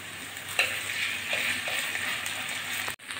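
Ginger being fried with salted, turmeric-dusted potatoes in a pan gives a steady, close sizzle and hiss with a few brief stirring clatters. It cuts out abruptly near the end.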